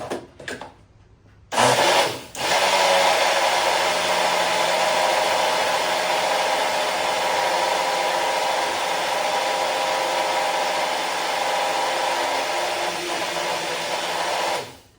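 Electric mixer whipping coffee for whipped coffee, a loud continuous whirring motor that kicks in after a few short bursts and runs steadily for over ten seconds before winding down.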